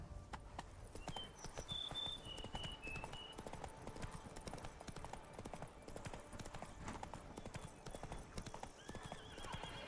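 Hooves of the horse Roach galloping in The Witcher video game, a rapid, continuous clip-clop rhythm close by, with a whinny early on and faint game ambience underneath.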